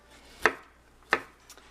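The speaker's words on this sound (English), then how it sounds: "just roughly chopping them" Two sharp knife strikes on a cutting board while roughly chopping leftover vegetables for a stir fry, spaced under a second apart with a faint third tap, close and distinct with no speech.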